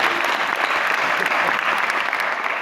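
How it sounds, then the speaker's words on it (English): A conference audience at UN-Habitat headquarters in Nairobi claps in a dense, sustained round of applause filling the whole stretch at moderate loudness. "Let's give it That up. round of applause, absolutely."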